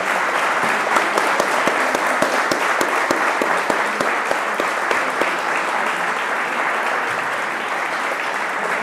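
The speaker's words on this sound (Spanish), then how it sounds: "hacemos un aplauso, agradecemos a Alberto." A lecture audience claps steadily after a talk on Hispanic language and beliefs, a dense sustained patter of many hands with a few sharper individual claps standing out, fairly close and loud, no talking over it.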